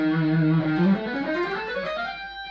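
An electric guitar with a slightly effected tone plays a whole tone scale climbing upward, notes evenly spaced and ringing, played alone.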